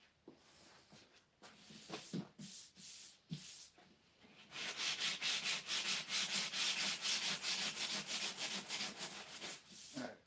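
Sanding a Nissan S13 race dashboard by hand with soft sanding blocks: scattered rubbing strokes at first, then a long run of steady, rhythmic back-and-forth scrubbing, close and fairly loud, with no talking.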